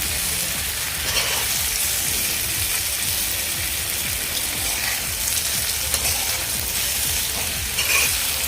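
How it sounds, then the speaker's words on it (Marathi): Rice flour fare, a pitha-style snack, frying in hot oil in a home kitchen, with a steady, dense sizzle that carries on close and loud with no talk. "इथे आपलं हे फरे व्यवस्थित फ्राय करून झाले आहेत."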